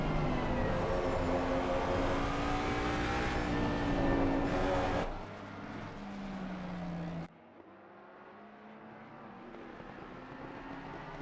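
Race car engine running with an intake restrictor at the Spa circuit, a sustained droning roar with shifting pitch that drops away abruptly twice, getting quieter and more distant toward the end.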